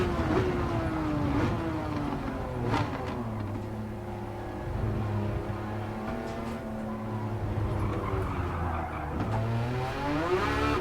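A hard-to-handle race car's engine in Gran Turismo 7, loud and continuous, its pitch sweeping through gear changes and rising again under acceleration, with no talking.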